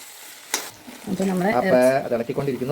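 Beef pieces stirred in a hot pan, with wet frying and a steady sizzle building after a sharp opening scrape, the spoon working through the meat close by; a voice talks over part of it.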